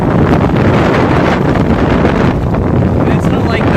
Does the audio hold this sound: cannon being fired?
no